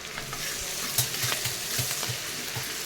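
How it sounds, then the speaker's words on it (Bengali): Onions frying in a pan on a gas stove give a steady bright sizzle, broken by a regular run of soft stirring scrapes, close up with no voices. "আমি পেঁয়াজটা ভাজতে দিয়ে দিচ্ছি"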